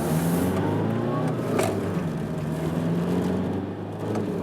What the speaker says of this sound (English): Let's accelerate here a little bit more.